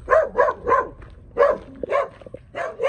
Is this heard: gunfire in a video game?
no